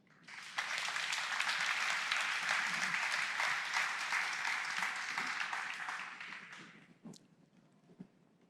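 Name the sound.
congregation applause in church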